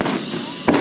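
Fireworks at a Fourth of July show over Hilo Bay: a rumbling background of bursts, then a sharp, loud bang near the end.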